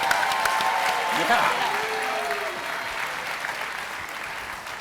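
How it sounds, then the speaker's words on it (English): An indoor audience applauds a former Atlanta Falcons quarterback's guests at a talk-show style event, a dense, loud round of clapping that slowly fades, with a brief voice over it. "How about a round of applause for Marshall and Johnny?"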